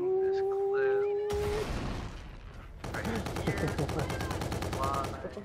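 Automatic gunfire in Call of Duty Infinite Warfare multiplayer: a sharp burst, then a long rapid rattling stream of shots near the end, with a tonal in-game sound at the start.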